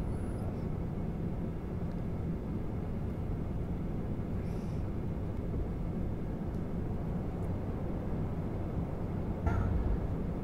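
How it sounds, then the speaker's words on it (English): Airplane coming in to land on a runway in the VR game VRChat, a continuous dull engine and wind rumble holding steady throughout with a brief knock near the end. "I don't think I'm going to be able to land on this runway"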